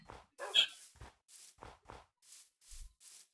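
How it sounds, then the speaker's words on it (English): A Minecraft dog (wolf) gives a series of short, clipped barks and yips, about six spaced bursts with brief silences between, fairly quiet and alone. "Oh, doggy."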